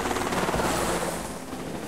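A helicopter in Jurassic Park: The Game gives a loud, steady rotor and engine roar. It stays close and dense throughout, then eases slightly toward the end.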